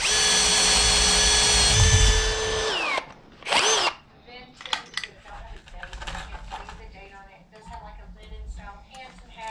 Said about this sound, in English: I'm taking my time because I want to make sure I drill this right.